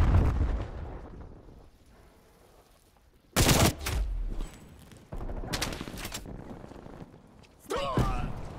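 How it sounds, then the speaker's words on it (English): Sniper rifle shots ring out in Call of Duty, a couple of loud sharp cracks with rolling echoes separated by quieter stretches, with a voice speaking near the end. "Hostile snipers working."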